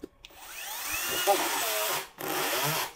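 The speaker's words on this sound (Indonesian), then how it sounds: "Tapi kalau Anda nekat mau melanjutkan pengeboran seperti saya tadi, Anda tinggal matikan fitur kickbacknya, maka bor ini akan terus berjalan." A Dongcheng DCJZ20160i cordless hammer drill, set to torque 4, speed 2 and tapping-screw mode, whirs with shifting pitch, stops briefly near two seconds, then runs again, sounding fairly close.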